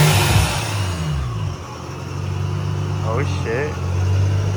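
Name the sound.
supercharged Nissan 350Z pulling up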